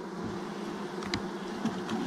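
Honey bees from a swarm trap buzz steadily at close range while frames are moved into a 10-frame hive, with a few louder flyby swells over the constant drone.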